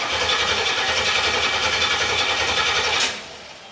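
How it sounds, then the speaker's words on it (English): A car that has sat for several weeks makes its cold start: a loud, steady mechanical churn that holds for about three seconds, then drops to a lower, quieter level. "Alright guys, cold start. Yes, this thing has been sitting for several weeks."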